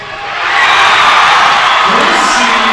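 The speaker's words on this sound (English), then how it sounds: "That brings the crowd to life" A high school volleyball crowd erupts in loud, sustained cheering, yelling and whooping inside a gym after a big point, building quickly and staying at full volume throughout.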